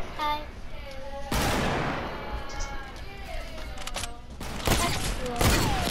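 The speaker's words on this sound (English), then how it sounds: "I hit him with the hunter rifle 90." Hunter rifle shots in the video game Fortnite: several loud, sharp cracks a second or more apart, each with a trailing echo, over game ambience and faint voice-like tones.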